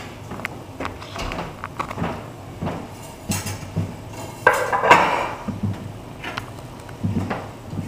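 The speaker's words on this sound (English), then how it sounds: "So we're just going to take the squash out of the oven," Roasting pan of acorn squash lifted out of an oven, a series of metallic clanks, scrapes and knocks of pan and rack at close range, with some shuffling between.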